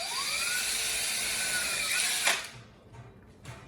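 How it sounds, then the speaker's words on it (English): A small power drill whines steadily as it bores into a raw eggshell braced in an egg carton, a high rising tone for about two seconds that then stops, followed by light handling noise. "you will drill into the egg"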